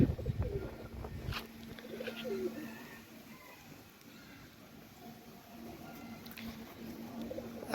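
Pigeons in a desi pigeon loft coo softly, with low repeated coos and a few faint calls, heard fairly close and alone.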